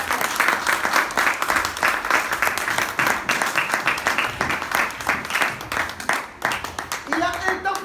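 A church congregation claps in praise of the Lord, a steady dense rhythmic applause that carries loudly and continuously, with voices mixed in under the clapping.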